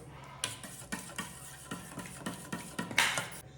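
Spoon stirring a spice mixture with salt and chili powder in a pan, a close series of quiet scraping and tapping strokes at an uneven rhythm, with a light sizzle underneath.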